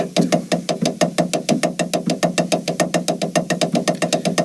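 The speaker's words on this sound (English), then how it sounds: "they play big open double strokes around the set, very effective sound" Rapid, evenly spaced drum strokes in open doubles move around a drum set, a dense, steady stream of crisp hits played close and loud with no talking.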